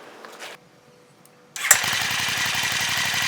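A 2024 Brough Superior motorcycle fires up after a quiet pause: a sharp crank, then the engine catches and settles into a loud, steady idle with an even, pulsing beat.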